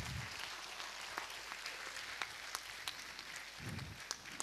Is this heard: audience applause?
yes